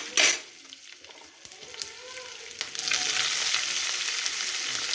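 Chopped green chillies fry in hot oil with cumin and curry leaves. A steady, loud sizzle builds and holds, with light stirring clicks, and no one speaks.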